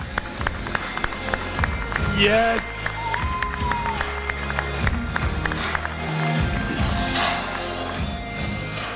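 Audience applause and crowd noise fill a large hall at an E3 2018 presentation, a steady wash of clapping and murmur with a voice speaking over it and a brief reply.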